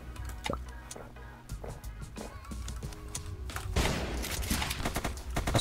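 Gunfire in a video game: a scatter of sharp shots and rattling bursts rising over a constant background of game sound, growing louder and denser toward the end.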